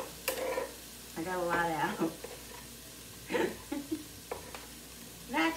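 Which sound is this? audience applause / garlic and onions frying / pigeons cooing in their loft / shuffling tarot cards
garlic and onions frying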